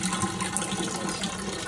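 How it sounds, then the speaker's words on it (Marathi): Filtered water pours into a clay water pot in a continuous close gushing stream that runs for the whole short stretch without any break, and no one speaks over it. "फिल्टरचं पाण्याचा माठ भरायचा एकदम थंड होणार सकाळपर्यंत."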